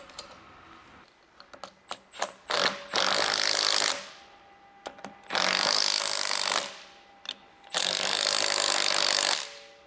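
Power tool, likely an impact wrench, tightening nuts on a Toyota Tacoma strut assembly during a leveling kit install, heard as several short bursts, each around a second or more, separated by clicks and small knocks, fairly close.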